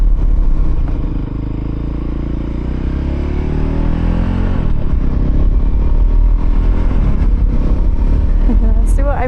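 A Voge 300 Rally motorcycle pulling away in first gear on a dirt surface, its engine note rising quickly, with wind rush and rattling close by and a rider's voice faintly present.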